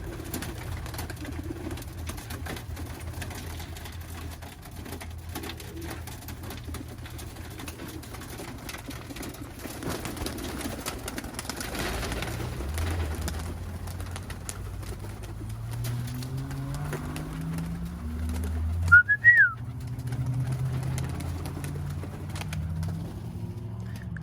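Birmingham roller pigeons coo softly and steadily in a low, continuous murmur, with a short sharper call near the end, no talking.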